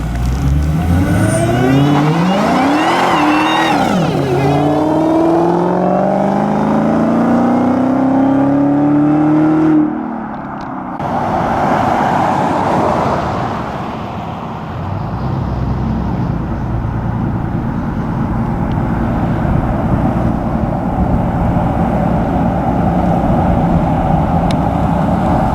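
A 2018 widebody Dodge Challenger Hellcat launching hard, its engine roaring and climbing through sweeping gear changes, then a brief lull and a second surge before settling into a steady loud drone, no voices.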